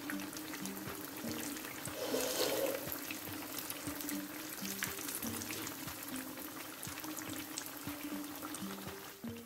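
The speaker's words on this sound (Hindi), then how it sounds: "अब हम इसे मज़ीद 3 मिनट तक फ्राई करेंगे" Vegetable kebabs frying in a pan, a steady low sizzle running throughout at moderate level with faint crackling, no voices over it.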